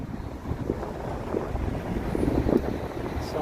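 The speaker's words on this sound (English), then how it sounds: "The chilly wind." A chilly wind of about 6 degrees blows along Yonge Street in Toronto, a steady broadband rush with low buffeting against the microphone, mixed with faint distant street noise.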